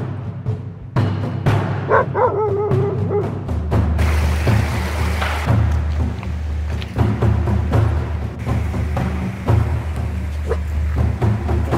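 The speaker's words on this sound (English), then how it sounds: "Nelson, you're barking at yourself, dude." A dog barks and yips nearby in irregular bursts over a continuous low rumble and rustling background at a spring campsite by Baker Lake in the North Cascades, Washington, without any speech.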